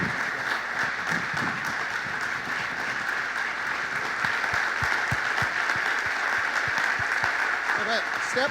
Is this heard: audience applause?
yes